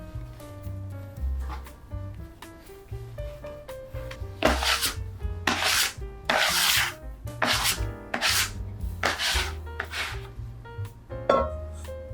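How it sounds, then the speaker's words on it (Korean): Sourdough bread dough kneaded by hand gives close, rhythmic rubbing and slapping strokes, with repeated soft pushes and occasional louder hits at an uneven pace, heard alone without talk. "반죽이 또 잘 섞였으면 이제 또 손반죽 15분 동안 해줄게요"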